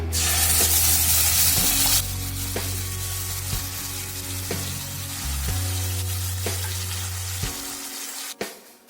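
Mustard seeds and curry leaves frying in hot oil for a simple kuruma, a steady, bright sizzle that stays up close and fairly loud. Scattered pops and stirring clatter break through, with a low hum beneath.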